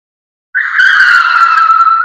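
A car braking hard with its tires skidding, one loud, close, sustained screech that starts abruptly after a brief silence and holds steady for about a second and a half.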